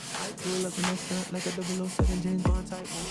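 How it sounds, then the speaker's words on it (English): Scuff sanding on laminate furniture before priming makes short, close rubbing strokes with a couple of sharper scrapes near the end. "Also, I'm giving a scuff sand to everything, just a little bit, because I'm going to prime it now."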